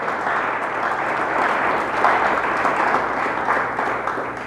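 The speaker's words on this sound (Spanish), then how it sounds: "Dale un fuerte aplauso a Dios" Congregation members in a church clap hard and loudly together, a thick sustained burst of applause that swells slightly midway, with a few voices calling out within it.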